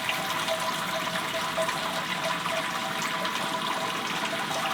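Water runs steadily through the sparge arm of a Grainfather G2 brewing system while brewing a mango lassi IPA, a continuous close hiss and trickle at an even level with no talk.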